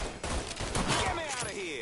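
Heavy gunfire in the Mafia III video game, a dense continuous barrage of overlapping shots lasting about two seconds, loud and close, with a voice talking over it.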